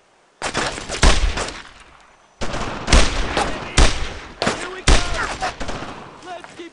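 World War II squad combat in the video game Brothers in Arms: Road to Hill 30, with loud, close bursts of rifle and machine-gun fire in several clusters separated by short pauses.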